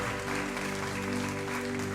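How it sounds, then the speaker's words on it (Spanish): Members of a church congregation applaud during a Father's Day service, a continuous crowd clapping layered over steady sustained music tones playing underneath. "vamos a levantarle un fuerte aplauso"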